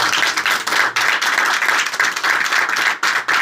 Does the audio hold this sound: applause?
yes